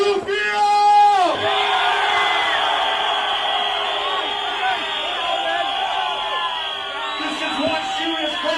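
Live show crowd in a packed venue cheering, yelling and whooping loudly and continuously, a sustained roar filling the room with bursts of shouts near the start.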